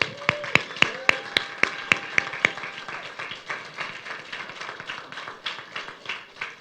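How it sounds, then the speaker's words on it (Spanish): A church congregation claps for a group about to be baptized, starting with a run of sharp, evenly spaced claps that loosen into scattered, softer applause. "Yo quiero que le den un aplauso."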